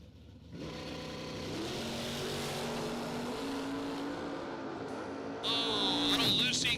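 Drag racing cars roar down the track together, a sustained loud engine drone with rising revs, then a sharp higher-pitched scream near the end as the run finishes.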